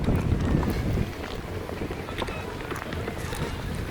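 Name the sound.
wind blowing on a country walk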